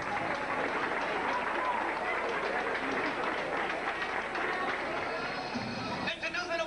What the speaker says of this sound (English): Would you please give him a big round of applause as he approaches the bandstand?